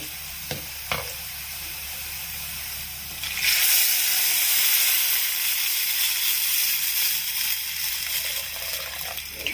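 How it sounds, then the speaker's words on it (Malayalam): Tamarind water poured into a hot pan of browned fried onions for Palakkad-style mulaku varutha puli bursts into a loud, steady hiss after a few seconds of quieter frying and a couple of faint clicks. "ഉള്ളി ഈ കളറാവുമ്പോൾ നമുക്ക് ആ പുളി പുഴിഞ്ഞത് ഒഴിച്ചു കൊടുക്കാം"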